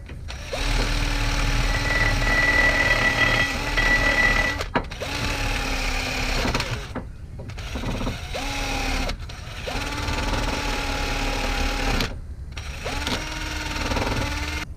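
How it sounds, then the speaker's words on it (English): A power drill with an attachment removing old paint from a 2000 Chevrolet Corvette C5's brake calipers whirs in repeated bursts of a few seconds each, separated by brief pauses, steady and close with a buzzing, machine-like tone. "Now for the areas that I can't get with that drill attachment, I'm just going to use it by hand."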